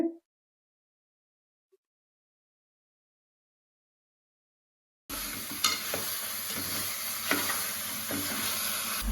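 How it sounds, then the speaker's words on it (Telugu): Chicken pieces dry-frying in a pan without oil: after about five seconds of near silence, a loud, steady sizzle and hiss starts, with occasional stirring clatter. "చికెన్ లో నీరు పోయేంత వరకు ఫ్రై చేసి పెట్టుకున్నాం చికెన్ ని"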